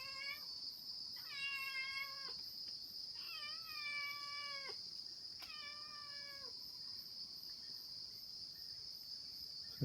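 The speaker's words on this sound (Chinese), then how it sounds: "还有猫的叫声" A cat meows outdoors after rain in a rural yard, four drawn-out cries spaced a couple of seconds apart, fairly close, over a constant high chirring of crickets and insects.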